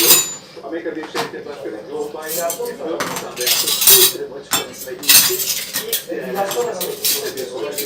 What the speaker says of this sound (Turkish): Dört kaşık, dört çatal çıkardım.